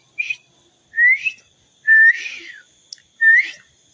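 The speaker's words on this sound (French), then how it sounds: "Le gars qui sifflotait là." A man whistles a short tune, four bright rising phrases with brief pauses between them, clear and close with no other sound.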